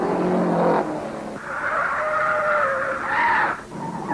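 George Connor's race car at the 1952 Indianapolis 500 skids on locked rear wheels, with a loud, close engine roar and sustained squealing tire tones that rise and fade across the clip.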